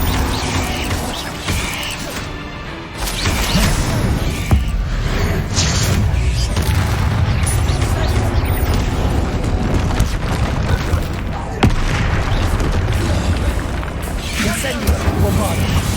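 Spell explosions from the video game Hogwarts Legacy, heavy booms and crashing blasts coming in quick succession over a dense, loud mix of game effects, with a voice calling out over the action.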